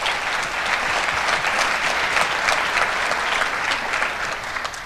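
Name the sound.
applause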